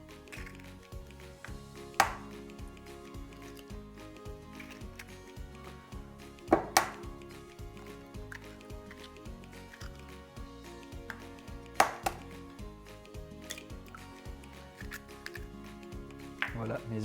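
Eggs cracked one at a time against a mixing bowl, a few sharp isolated cracks spaced several seconds apart, heard close up over a quiet kitchen background.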